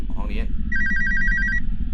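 A red telephone rings in the horror video game Alone, a steady electronic trill of repeated short bursts after a brief sound, over a low background hum.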